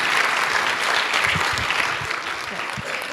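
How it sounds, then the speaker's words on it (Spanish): A crowd applauds steadily throughout, a dense wash of clapping from a sizable audience at a circular economy forum panel. "Por favor, un gran aplauso para ella."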